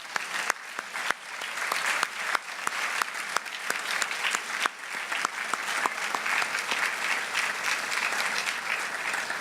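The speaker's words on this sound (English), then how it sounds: "Would you join me in a round of applause for our delegates?" A crowd at a charity campaign kick-off event applauds delegates, a full, steady round of clapping with sharp individual claps popping out, lasting about ten seconds.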